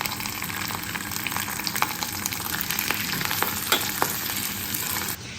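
Onions frying in a pan for chicken liver adobo hiss and sizzle loudly and close up, a steady crackle with small stirring clicks throughout and no talking.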